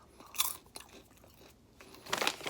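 Caramel FunkyChunky popcorn bits crunch loudly in several separate bursts of chewing, close to the microphone, with quieter chewing between them and no talk.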